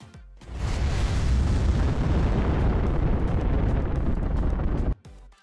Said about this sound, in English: The rocket launches into the air with realistic motion, flames, and smoke effects.